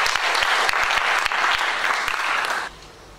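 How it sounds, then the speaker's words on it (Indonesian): A church congregation bursts into dense, even clapping that fills the room for a few seconds, then cuts off abruptly, leaving quiet room tone. "Berikan tepuk tangan untuk Tuhan."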